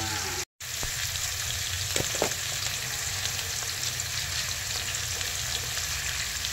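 Prawns and pui greens (Malabar spinach) frying in a pan while being stirred, a continuous close sizzle with occasional spatula scrapes and clacks, no voices.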